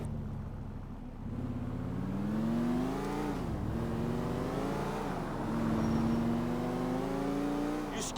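A car driven in Grand Theft Auto IV revs up from a low idle into a sustained engine drone, pitch sliding up and down through gear changes, close and steady throughout.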